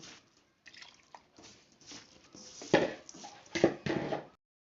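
A small splash of water poured into soft rice flour dough, heard as faint trickling and wet squishing that builds into a few louder splashy pulses near the end.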